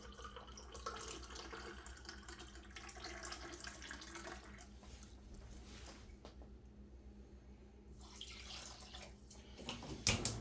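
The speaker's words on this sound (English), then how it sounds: "we're going to add to that a cup of water" A cup of water poured onto a cup of sugar in a pan for grape hyacinth simple syrup, a soft quiet trickle and splash running for several seconds with a few louder clunks at the end.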